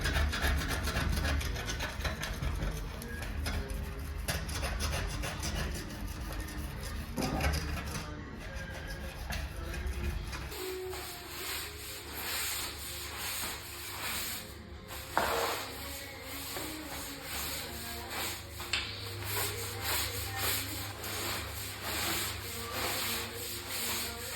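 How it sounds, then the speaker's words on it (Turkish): A scraper grinding steadily across balcony glass to lift sticky residue after spraying, a dense continuous rasping and rubbing with a slight shift in tone partway through, close up with no talk. "Daha sonra kazım aletimle böyle kazıyorum."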